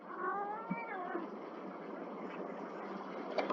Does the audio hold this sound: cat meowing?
yes